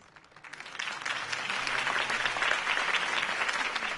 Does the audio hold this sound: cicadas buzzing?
no